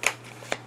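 A deck of cards being shuffled gives two quick, crisp snapping rustles, close and fairly quiet, with no talking.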